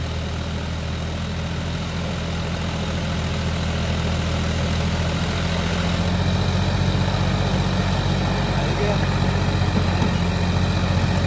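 A John Deere tractor engine idles steadily with a deep, continuous rumble throughout, growing slightly louder midway, with faint voices mixed in.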